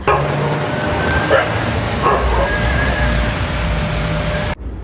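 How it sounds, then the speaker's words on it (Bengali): A dog barks a few times at moderate distance over steady rain and outdoor background noise on a rainy walk. "এই তো এখন বর্তমানে কুকুর"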